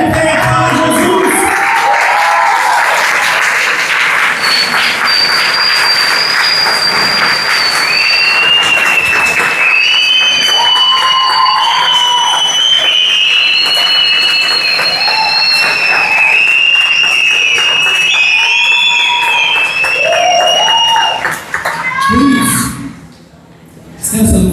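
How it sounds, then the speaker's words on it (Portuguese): A church congregation applauds and cheers at a live theatre event, with loud, sustained clapping, whistles and voices shouting over it. Music plays throughout, and the noise cuts off sharply near the end before briefly picking up again. "Fique de pé, aplauda Jesus, querido"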